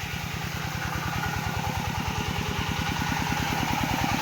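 An engine-driven pump draining a fish pond runs at a steady, even rhythm, a loud close chugging with a fast regular pulse and no pauses, with no talk.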